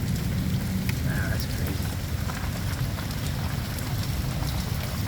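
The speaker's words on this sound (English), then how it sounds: "Hear that? That's called thunder." Heavy rain pours steadily on a street in Wichita, Kansas, a dense, continuous roar with a faint rumble of thunder beneath, while a person speaks briefly over it.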